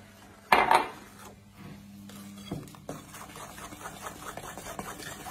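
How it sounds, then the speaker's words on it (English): A spoon clatters against a pan as light brown sugar is stirred into a brownie mixture, with a sharp knock near the start followed by quieter scraping and tapping and a low background hum. "So I am going to give it a little stir"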